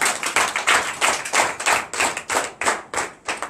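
A church congregation at a Benin morning prayer service claps in acclamation, a run of loud, roughly regular hand-claps heard close with no talking over them.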